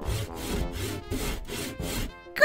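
A cartoon saw cuts through wood in five even back-and-forth strokes. Each stroke is a rasping rub, close and moderately loud, ending with a brief bright chime.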